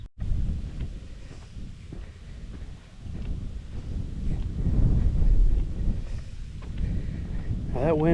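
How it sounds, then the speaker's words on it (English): Wind rumbles and buffets the microphone outdoors at Blue Mounds State Park in Minnesota, a steady low roar that swells midway, with a voice faintly mixed in. "Now that wind feels good in the heat."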